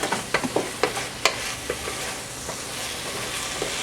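Onions and mushrooms frying together in a pan without salt or seasoning, a steady close sizzle broken by several sharp stirring clicks and scrapes early on, with no talking.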